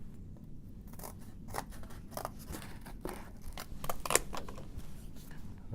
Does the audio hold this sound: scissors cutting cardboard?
yes